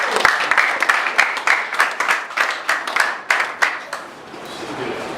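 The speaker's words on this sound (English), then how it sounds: "Then we also clap for the Governor himself." A crowd at a darts championship in Abia State, Nigeria, claps in a dense burst of applause, with sharp hand claps standing out, fading somewhat toward the end.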